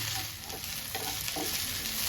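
Okra (ladies finger) frying in a pan for a bhindi sabji, a steady close sizzle running throughout with a few soft stirring scrapes rising above it, no voices.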